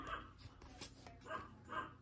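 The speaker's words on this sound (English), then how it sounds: "If you can hear my dog in the background, must be somebody in the window barking at him." A dog barks in another room, a few muffled barks and yips spaced across a couple of seconds, faint and distant.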